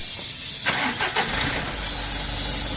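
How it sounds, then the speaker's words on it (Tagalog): A Mitsubishi L300 Euro4 van that had been soaked in floodwater cranks with a few quick turns, then its engine catches and settles into a steady, close idle. "start ko na itong makina."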